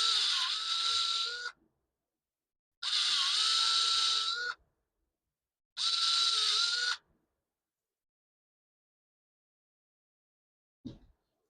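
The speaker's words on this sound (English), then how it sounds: "drilling a new hole on the other side." An electric drill bores a new hole in three separate whining bursts of about a second and a half each, with silent pauses between them, followed by one brief click.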